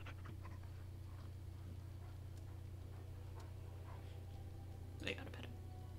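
A dog in a video game pants in a steady, fast rhythm, close and fairly quiet over a constant low electronic hum, with a brief sharper sound near the end.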